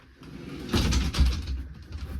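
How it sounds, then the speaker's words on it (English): The bathroom sliding door of a 2014 Prowler 28RLS travel trailer glides along its track in one short rumbling slide lasting about a second, close by in a quiet interior. "you have a sliding door for privacy from the bathroom"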